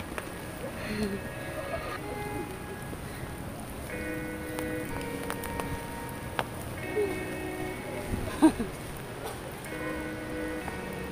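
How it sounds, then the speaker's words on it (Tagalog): Rain falls steadily as a soft, even hiss in Baguio, the Philippines, faint beneath background music and a few scattered louder drops. "It's raining. Oh my gosh. It's raining."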